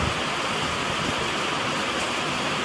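Rain falling steadily as dense, even hiss, continuous and fairly close, with no voices over it.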